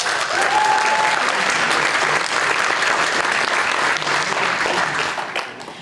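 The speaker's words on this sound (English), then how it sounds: "If you could go ahead and give them a big round of applause." A hall audience at a December 2019 speech night gives a steady, loud round of applause for the two MCs, dense clapping holding throughout before tapering slightly at the end.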